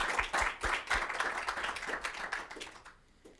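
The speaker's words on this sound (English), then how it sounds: "big round of applause again" Applause breaks out from a modest conference audience after a talk in an energy and society session, with distinct sharp claps that settle into a lighter patter and taper away.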